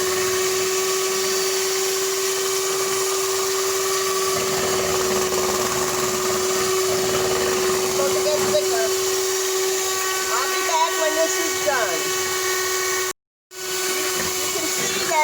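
An electric mixer beats cake batter in a home kitchen, a steady loud whirring drone with a constant hum that runs almost without break and cuts out briefly near the end.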